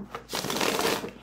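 A vintage Fournier Spanish Tarot deck of smaller Marseille-size cards being shuffled, a dense, crisp riffling flutter lasting about a second, close and steady after a brief start.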